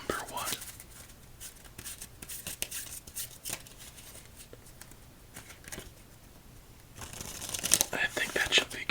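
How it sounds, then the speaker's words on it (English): A deck of playing cards shuffled at a quiet solitaire table, soft repeated riffles and crinkly snaps with cuts between them, close and gentle, ending in a brighter, louder flurry of riffling. "as we shuffle up our cards"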